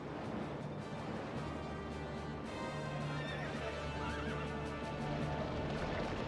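Horses neighing and whinnying amid galloping hooves as chariots race in pursuit, a dense continuous rumble of clip-clop and repeated whinnies with no speech.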